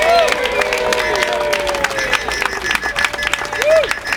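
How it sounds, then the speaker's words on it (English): A crowd at an outdoor anti-Indian Point nuclear demonstration in New York City claps steadily, with scattered whistles and cheers over the applause. "Give yourself a round of applause."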